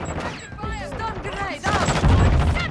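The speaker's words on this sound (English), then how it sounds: "my teammates are shooting back" Rapid bursts of gunfire from teammates in the Modern Warfare shooter, a close, crackling volley under a player's voice, louder in the second half.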